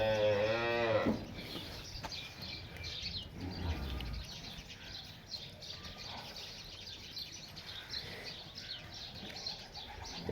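A Cholistani crossbred cow gives a loud, close moo at the start, then a quieter barnyard scene follows with birds chirping and cooing in the background.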